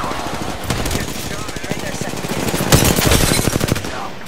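Rapid machine-gun fire in a video game, a steady stream of close, loud shots rattling almost continuously for several seconds, with voices present in the mix.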